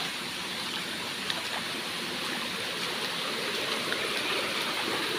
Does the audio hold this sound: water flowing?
yes